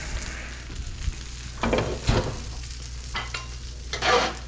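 Browned cauliflower pieces sizzle in a pan for tacos, a soft steady frying hiss punctuated by a few scraping stirs and clatters as the pieces are moved.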